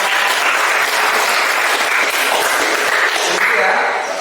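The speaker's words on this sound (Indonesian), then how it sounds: "tepuk tangan dulu untuk kelompok." A classroom of students and teachers applauds a student group, loud, dense, sustained clapping from a crowd of hands that runs unbroken throughout.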